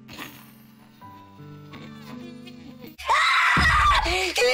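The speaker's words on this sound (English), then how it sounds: "she screams as loudly as she can" A girl character in the Doki Doki Literature Club video game screams loudly and at length, the sustained shrill cry rising abruptly out of soft background music and filling the final second and a half.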